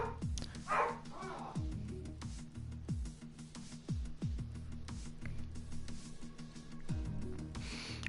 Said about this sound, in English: It's the dogs going for a walk, and they get very excited when they go for a walk